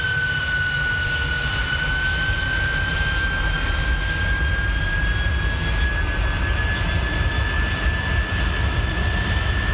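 Airliner jet engines during landing in Microsoft Flight Simulator, a steady loud roar with a sustained high whine rising slowly in pitch, continuous for the whole stretch with no talk.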